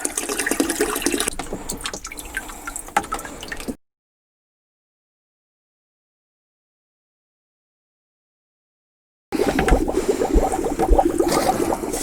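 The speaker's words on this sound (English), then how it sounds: "Let as much water drain out as possible." Water drains from an on-demand water heater, running and trickling steadily with gurgling splashes, cuts out into several seconds of silence as the pump is unplugged, then resumes flowing.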